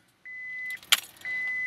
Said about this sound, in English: I'm going to turn the car to on.